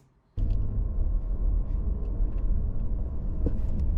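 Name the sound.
Bentley W12 engine sound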